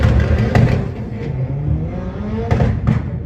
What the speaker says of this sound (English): In time we're going to see a Seat Alhambra racing a Nissan GTR from Malta